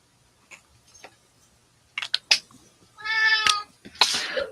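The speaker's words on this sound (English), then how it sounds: "Meow, see, meow." A pet cat meows close by: a couple of short, faint sounds with small clicks and ticks, then two clear, drawn-out meows.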